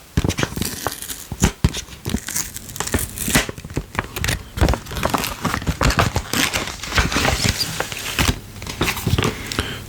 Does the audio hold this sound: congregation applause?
no